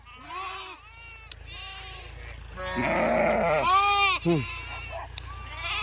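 Sheep bleat repeatedly on a farm amid green fodder fields, several loud, close, wavering calls overlapping, some higher and some deeper, over a faint steady background hum.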